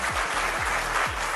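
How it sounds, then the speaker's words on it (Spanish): Applause from a studio audience on a Dominican television opinion programme, a steady wash of many hands clapping, with a few low gliding tones sliding through underneath. "Eso merece un gran aplauso"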